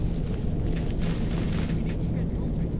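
Mage casting a fire spell in Skyrim, a continuous roaring rush of flame held steady for a few seconds, fairly loud, with a voice talking over it.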